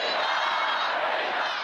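Hundreds of party supporters crowding around Iran's president, a dense roar of shouting voices that continues steadily throughout.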